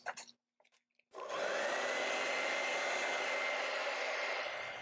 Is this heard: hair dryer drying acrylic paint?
yes